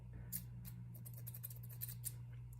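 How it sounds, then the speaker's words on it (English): Scissors cut through a bundle of yarn wound for a pom-pom, making a few quiet, crisp snips in an irregular rhythm, close up and alone against a low hum. "So you take your scissors and you cut it."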